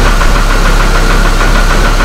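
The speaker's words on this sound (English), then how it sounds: "It's running better right now." A Hummer H3 engine idles at about 800 RPM, a loud, close, continuous rumble with a faint rhythmic knocking pulse and vibration throughout, no talking.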